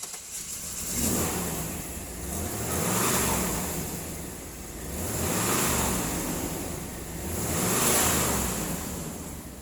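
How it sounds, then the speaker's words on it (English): A 1999 GMC Suburban 1500 SLE with 194,386 miles running, its engine rising and falling in three or four slow swelling surges over a steady rumble, heard from a moderate distance at low level. "Engine run video."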